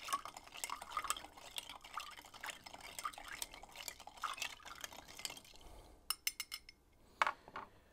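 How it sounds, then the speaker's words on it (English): Bar spoon stirring an eggnog and walnut old fashioned over ice in a mixing glass: a run of soft clinks and rattling ice taps close by, ending in a few sharper isolated clinks, with no talking. "We're gonna stir that up until it is quite cold. 15 to 20 stirs should be good."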